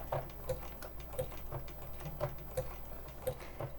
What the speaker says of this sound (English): So we'll do a quick little back stitch.